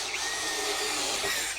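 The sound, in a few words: DongCheng cordless impact drill drilling into wood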